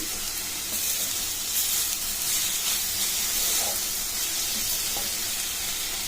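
Radish stuffing for paratha sizzles steadily in a hot pan as it is stirred, a continuous close hiss and crackle with occasional faint scrapes and no talking.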